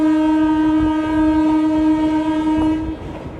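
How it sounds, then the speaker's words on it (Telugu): The Narasapur–Hubli Amaravathi Express sounds a long, loud, steady horn while running through Godavari district country. Wheels rattle underneath, and the horn cuts off near the end. "మన ట్రైన్ టౌన్ వైపు అయితే వెళ్తుంది"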